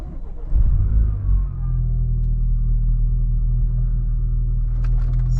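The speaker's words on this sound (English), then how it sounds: "I just took the A4 for a quick little spin around the block" An Audi A4 (B8.5/B9) driving around the block, its engine a steady, loud low rumble with a brief surge of revving near the start before settling into an even cruise.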